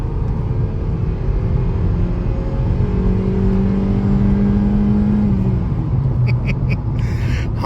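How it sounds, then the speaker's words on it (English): A 2007 Honda Civic engine drones loudly from inside the car as it accelerates onto the highway. Its pitch climbs steadily with rising revs, with constant road noise underneath. "Honda motor doing Honda motor things."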